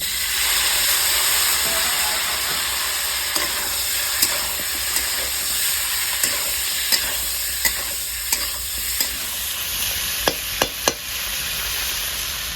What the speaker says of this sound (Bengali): হালকা করে কষতে নিয়েছি তেলে আমি ভেজে নিয়েছি মাংসটা